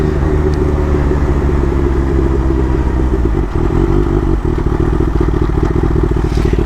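A Kawasaki H2 motorcycle engine roars loud and close, a dense rising growl with rhythmic mechanical pulsing and brief dips as it pulls hard, no voices over it.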